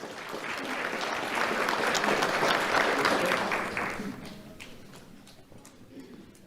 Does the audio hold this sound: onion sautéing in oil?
no